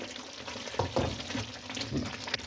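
Chicken Mughlai gravy gets stirred in a pan after simmering on low flame, soft scraping and wet sloshing strokes over a faint sizzle, quiet and close, a few distinct spoon movements.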